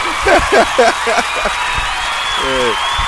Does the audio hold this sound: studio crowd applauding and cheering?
yes